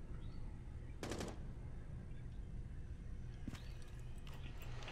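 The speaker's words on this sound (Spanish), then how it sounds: "Están disparando desde fuera" Gunfire from outside in Rainbow Six Siege comes as short, muffled bursts of rapid shots, distant against a steady low background rumble.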